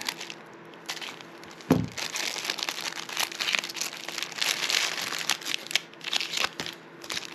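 A plastic package around a Pokeball toy crinkles and crackles steadily as it is opened with scissors, close and fairly quiet, with one sharp snap partway through.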